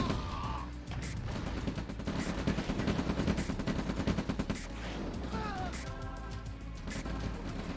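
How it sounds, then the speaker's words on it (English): A turret in a strategy game keeps up steady, rapid gunfire from across a ridge, heard faintly as a fast, even stream of shots under the general din of battle. "look at that turret shooting from across the ridge"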